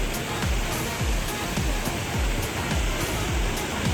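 Hot spring water pouring down amid steam at Kusatsu, Gunma, a loud, continuous broadband rush with a faint regular thumping beneath it.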